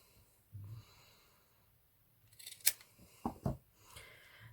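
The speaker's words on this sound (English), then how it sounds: "we'll just cut the smaller one" Scissors cutting a small piece of material for a DIY snap hair clip with a crimped edge, giving a few short crisp snips and rustles near the middle and end amid quiet handling noise.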